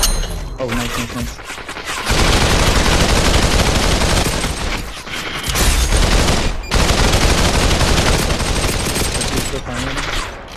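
Gunfire from the VR battle royale game Population: One rattles in loud, sustained bursts with brief gaps, dense and close, with players talking over it.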